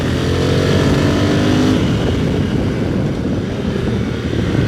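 A 2020 Honda Africa Twin CRF1100L Adventure Sports motorcycle engine roars loudly and steadily throughout as it accelerates, its pitch shifting as it revs, close and continuous with no voices.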